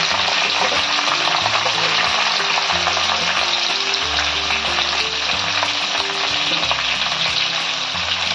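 Chopped tomatoes sizzle loudly in a hot pan of oil, with onion already added, a dense continuous frying hiss over low stirring scrapes and pan knocks throughout.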